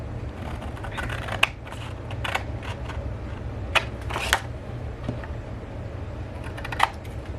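Scissors cut a paper scrapbooking template in short, crisp snips, irregular and close, over a low steady background hum.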